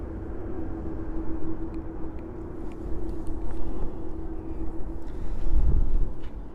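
An Iberia airliner takes off from JFK bound for Madrid, a steady broad jet roar with a low drone that swells slightly toward the end, heard from a distance without talk.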